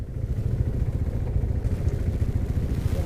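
A 2017 KTM Duke 390 single-cylinder engine pulls steadily on the move, a loud, continuous low throb with rattling texture and no break across the few seconds.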